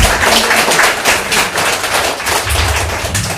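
Congregation applauding at a Korean church service, dense steady clapping from many hands that fills the room loudly and without pause.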